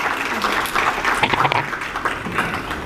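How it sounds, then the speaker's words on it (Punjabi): An audience at a Sikh commemoration for the Saragarhi battle, organised by United Sikhs, applauds steadily, a dense wash of clapping that holds through the clip with voices mixed in. "ਜ਼ੋਰਦਾਰ ਤਾੜੀਆਂ ਇਹਨਾਂ ਦੇ ਨਾਂ 'ਤੇ ਵੀ ਹੋ ਜਾਣ।"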